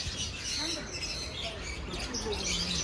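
A large bird calls near Hogenakkal falls, giving a few short chirps and coos against a constant hiss of rushing water.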